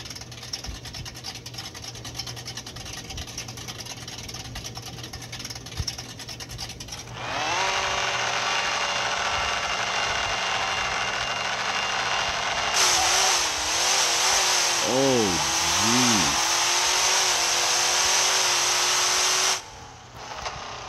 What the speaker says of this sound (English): So I can just ride that first gear all the way out.